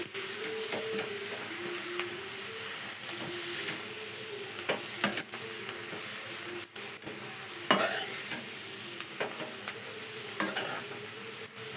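Steady sizzling in a pan with repeated scraping and clinking as a spoon slowly stirs a curry with ground garlic, no voices.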